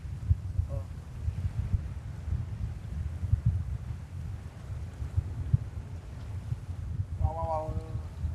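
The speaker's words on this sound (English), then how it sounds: "It's very windy now." Strong wind buffets the microphone at JFK Airport, a steady low rumble of gusts lasting throughout, with brief voices and a faint tonal whine near the end.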